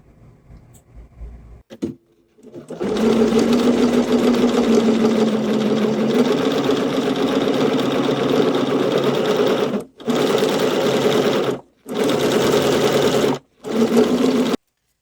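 A sewing machine runs long 6 mm stitches through fabric to gather ruffles, humming loud and close in a steady whir that stops briefly three times before starting again.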